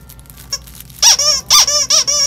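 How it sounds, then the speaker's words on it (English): A K9 Tuff Guard dog toy squeaks loudly and close up, five sharp squeaks in quick succession, following a moment of faint crinkly rustling. "It's kind of like wrapping paper, but it also has a squeak."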